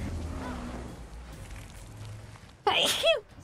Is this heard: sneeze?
yes